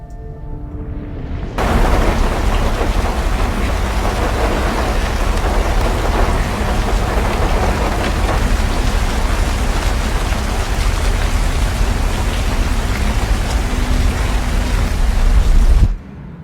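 Heavy rain pours with rumbling thunder in a scene from the 2024 courtroom drama film Juror #2, a dense, steady roar lasting about fourteen seconds before stopping abruptly.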